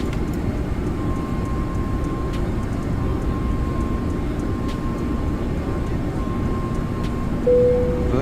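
Steady, even airliner engine drone on approach with flaps down in the X-Plane flight simulator, a continuous cabin-like rumble with a faint steady tone running through it, with no break.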